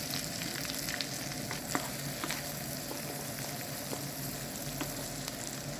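Chopped garlic fries in oil in a pan with a steady, dense sizzle, broken by faint occasional scrapes and taps of stirring, close and continuous with no speech.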